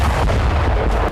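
Artillery fire and explosions in war footage form a loud, dense, booming rumble that fills the whole moment without a break.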